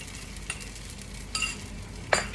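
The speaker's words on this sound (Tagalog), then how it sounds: "ilalagay natin itong itlog dito" Egg being stirred into rice frying in a pan gives a faint, steady sizzle, with a few soft scraping stir strokes and light clinks of the utensil against the pan.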